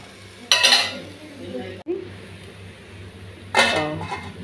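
A lid goes onto a pot of cooking ponnaganti leaf curry with a single sharp metallic clank, set between two short bursts of scraping and pan clatter nearby.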